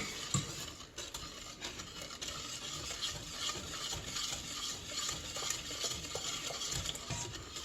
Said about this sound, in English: Just stir it in slowly. I like to use a whisk when I do this.